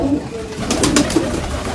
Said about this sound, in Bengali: পায়রা দেখতে এত সুন্দর হয়, ছেড়ে দেখাচ্ছি